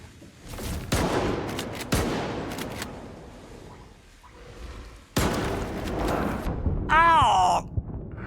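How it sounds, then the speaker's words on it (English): AK-74U gunfire in S.T.A.L.K.E.R. 2, a few heavy sharp shots with long decaying tails spaced through the scene, mixed with game ambience and a voice crying out near the end. "The AK-74U feels really good right now."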